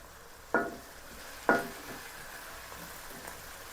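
Chopped garlic dropped into a pan of sautéing onions for chicken uppu curry, two sharp sizzle bursts followed by a quieter steady frying hiss, no one talking.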